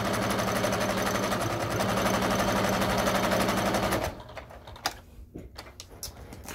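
A sewing machine runs a top stitch across a camera or guitar strap, a loud, continuous rapid whirring hum for about four seconds that cuts off into quieter fabric handling and clicks.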